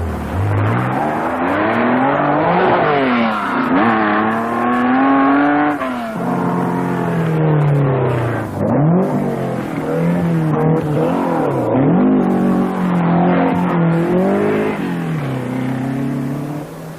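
A 1972 rally car on a Welsh Rally stage takes a hairpin with loud, close engine revving that rises and falls as it shifts gears, continuous for the whole stretch with no talking.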